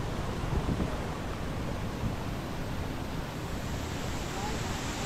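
Water flowing at Devle waterfall in Devarukh, Sangameshwar: a steady, broad rushing wash that stays even and continuous throughout, close by and without any pauses.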